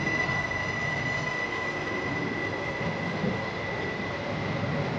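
Steady rumble and rolling of a passenger train heard from inside the carriage on a Zurich to Innsbruck route, with constant wheel noise and a faint high whine running throughout, no talking.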